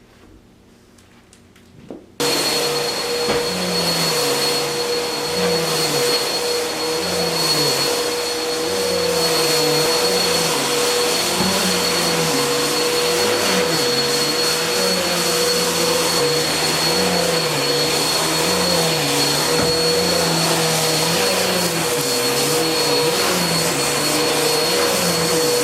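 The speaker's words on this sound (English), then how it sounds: "Vacuuming is quick, it's easy, and it makes a huge difference" After a brief quiet moment, a vacuum cleaner switches on and roars steadily, its pitch wavering slightly as it is pushed back and forth across the floor.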